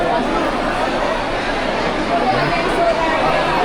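A dense crowd of pilgrims at the Barsana temple in Barsana, near Vrindavan, makes a steady, loud hubbub of overlapping chatter that continues without a break, with close voices talking over it.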